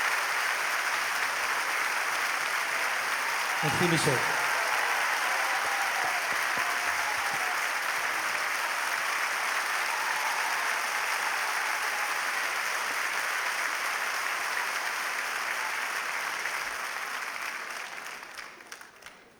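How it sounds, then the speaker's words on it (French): Concert audience at the Olympia in Paris applauding loudly and continuously in a sustained, dense wash of clapping, with someone briefly speaking over it early on before the applause tapers off at the end. "On applaudit très très fort"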